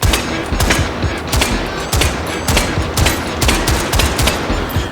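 Rapid gunfire at close-range steel targets in the VR game Hot Dogs, Horseshoes & Hand Grenades, sharp loud shots fired in quick irregular bursts over about five seconds, with no talking.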